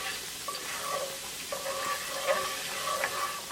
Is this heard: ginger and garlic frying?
yes